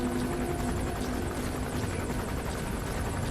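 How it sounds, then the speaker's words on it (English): Helicopter flying nearby in the video game Metal Gear Solid 5, a steady loud rotor drone and buzz that fills the whole stretch without letting up, with no voices. "There is a helicopter, you can see it just behind me"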